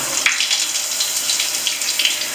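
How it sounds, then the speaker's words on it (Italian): Water from a handheld shower head streams steadily while rinsing a bathroom after limescale cleaning, a continuous close hiss and spatter with no talk. "adesso apro il mio doccino per fare il risciacquo"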